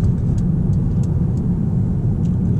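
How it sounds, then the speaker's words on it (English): Mercedes A-Class petrol car pulling onto a motorway, a steady loud engine and road drone from inside the cabin with no breaks. "getting onto the motorway and driving around town, this petrol car does just have that little bit more energy getting off the line"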